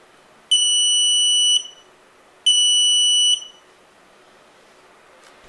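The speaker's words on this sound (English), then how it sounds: "Now, let's use a buzzer instead." A Grove kit electronic buzzer module emits two loud, piercing, steady tones, each about a second long, separated by a short gap, with near silence otherwise.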